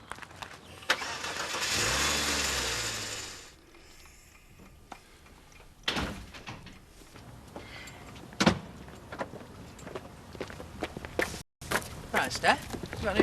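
A car engine turns over and fires up nearby, a rising mechanical whir that settles into a steady idle, followed by door clunks and small handling noises while voices talk around it.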